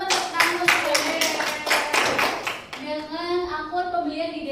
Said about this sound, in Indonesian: Boleh teman-teman tepuk tangan untuk Mbak Ini.